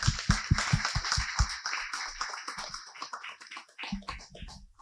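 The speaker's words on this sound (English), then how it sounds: "If we could we give them a round of applause," An audience at a live event applauds, with a run of sharp claps up front that thins into scattered, fading clapping.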